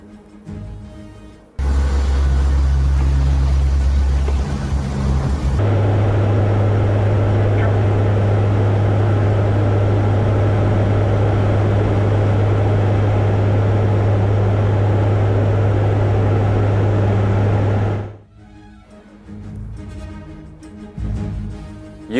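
Aircraft flying into the eye of a hurricane over Jamaica: a loud, steady engine and airframe roar holds for about sixteen seconds, framed by quieter muffled sound before and after.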